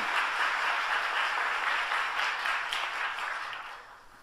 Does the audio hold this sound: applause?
yes